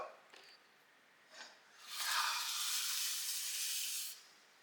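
Beaten eggs poured into a hot wok for a Cantonese stir-fry of yellow chives and shrimp, with a faint tap, then a loud sustained sizzle lasting about two seconds before fading.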